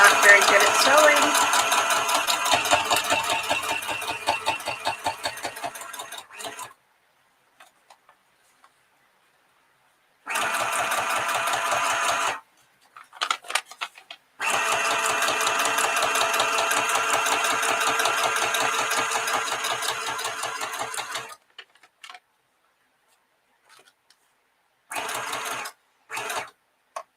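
Domestic sewing machine running in bursts of steady mechanical stitching, with long pauses between runs, close and fairly loud, with a person talking in places.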